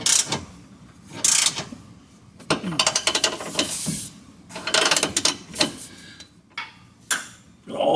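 Ratchet wrench tightening bolts on Steeda jacking rails under a car, in bursts of quick clicking strokes separated by short pauses, close and fairly loud.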